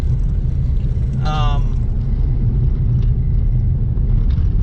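A pickup truck on a bumpy, bad road gives a steady, close low rumble and road vibration throughout, with a brief high chirp partway through.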